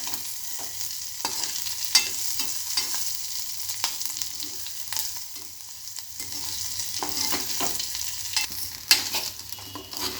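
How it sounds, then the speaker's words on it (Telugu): Rice rava and vermicelli fry in a pan, with a steady hissing sizzle and frequent scraping stirs at close range, all without talk. "ఫ్రై అవుతున్నాయి"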